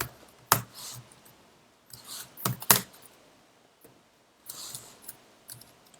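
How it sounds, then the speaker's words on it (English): Computer keyboard keys struck hard during a coding session, a few loud sharp clattering bursts of clicks separated by short pauses, close and with no talking. "I'm really mashing the keys."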